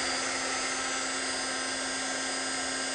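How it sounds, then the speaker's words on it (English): A Dremel rotary tool cutting a key gives a steady, high-pitched whine, constant and close with no pauses. "let me turn on the Dremel here"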